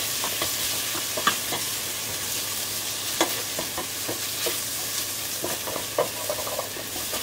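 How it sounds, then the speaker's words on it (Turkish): Thin vermicelli noodles toasting in a pan give a steady sizzle, broken by occasional scraping clicks from stirring, close and alone with no voices. "Yarım çay bardağı tel şehriye ekleyelim ve karıştıralım."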